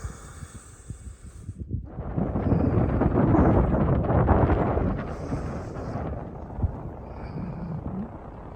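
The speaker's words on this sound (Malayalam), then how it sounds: "നല്ല കാറ്റ്, നല്ല ഓപ്പണായിട്ട്" Strong wind on a mountain at Shymbulak near Almaty buffets a microphone, first faint and fluttering, then swelling into a loud, steady rushing roar that gradually eases back to lighter gusts, with no talking.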